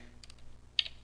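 A handful of crisp key clicks from a computer keyboard as a Linux command is entered at a prompt, with a short pair of taps, a pause, then a sharper cluster, close and alone.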